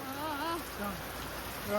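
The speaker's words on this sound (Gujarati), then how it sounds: "વરસાદ ચાલે" Steady rainfall patters and hisses without a break, with people talking faintly underneath the wet noise.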